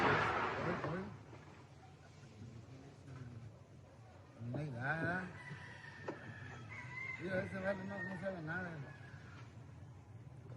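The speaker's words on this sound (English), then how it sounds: "Heard a rooster there." A rooster crows a few times at a distance during unrest in Puerto Vallarta, its calls partly masked by background noise, with people talking nearby.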